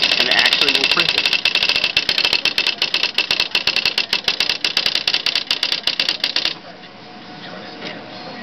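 A Smith Corona PWP 125 word processor printing a document: rapid, loud, evenly repeating daisy-wheel strikes in a steady mechanical rattle for about six seconds, then stopping and leaving faint motor hum.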